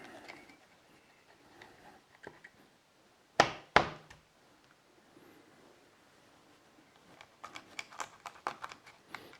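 Knife cracking through the bone of a plaice while beheading it, two sharp loud crunches close together, with softer scraping and cutting before and a quick series of faint taps afterward.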